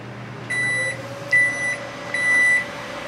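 A 12V microwave oven cooking rice gives a steady low hum, broken by three evenly spaced electronic beeps, each about half a second long.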